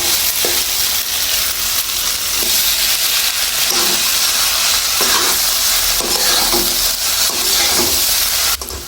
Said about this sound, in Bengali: এখন এই সবগুলো উপকরণ কষিয়ে এর মধ্যে দিয়ে দিব ভেজে রাখা ঢেঁড়স।